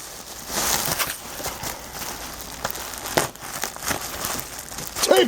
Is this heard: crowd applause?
no